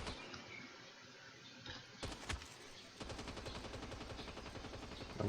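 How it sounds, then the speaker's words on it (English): Rapid automatic gunfire in the Call of Duty Mobile battle royale mode, a couple of sharp bursts followed by a sustained stream of rattling shots that runs steadily to the end. "Oh, someone's shooting me."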